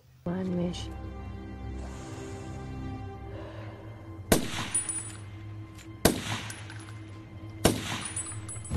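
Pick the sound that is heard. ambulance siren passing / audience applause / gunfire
gunfire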